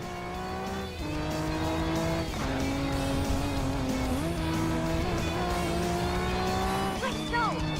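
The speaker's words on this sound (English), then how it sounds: "we can see that the Mustang Mach 1 is giving it its all, despite its age, and is slowly catching up to the trio right in front" Racing cars, among them a Mustang Mach 1 and BMWs, lap the Nürburgring in the Racing Master video game with loud, sustained engine drone and shifting pitch, gear changes and rising revs across the clip.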